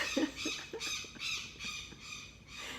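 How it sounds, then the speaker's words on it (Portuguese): Birds squawk repeatedly outdoors in a rough, irregular series of calls, fairly faint over a steady background hiss, with no talking. "estão vindo os pássaros?"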